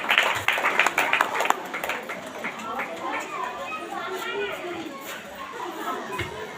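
A church service audience gives a brief burst of clapping that fades into murmuring chatter and voices, with the sound moderately distant in the room.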